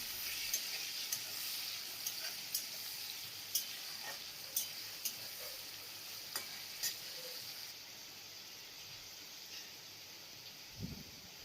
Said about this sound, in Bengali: চিংড়ি মাছটা আমি 1 মিনিট ভাজা করে নিয়েছি।